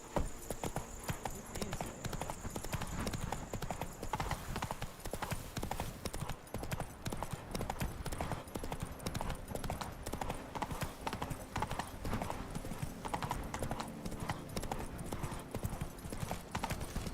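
Horse hooves clip-clop at a steady gallop in The Witcher 3, a continuous rhythmic drumming close by, with an occasional faint whinny and a bit of background speech over it.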